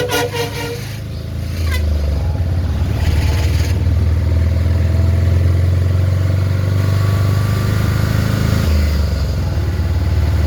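A vehicle driven fast on a road trip, its engine and road roar loud and steady from inside, building after a brief quieter moment with a few faint clicks at the start.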